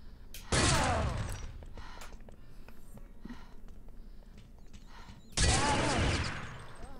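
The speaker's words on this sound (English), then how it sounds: "Tarquin got that second SR8 shot off" Two loud, sharp SR8 sniper rifle shots ring out in a competitive video game match, each with a long decaying echo, spaced several seconds apart over quieter game mechanisms and clicks.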